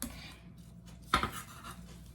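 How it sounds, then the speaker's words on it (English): A knife makes a single sharp cut through partially frozen pork being minced for siu mai, one brief close click against a quiet, faint background. "make cuts so that I have finely minced pork"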